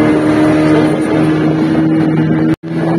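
A speedboat engine drones steadily with a strong tonal hum while underway on a sea trip, wind buffeting the microphone throughout, with a brief dropout near the end.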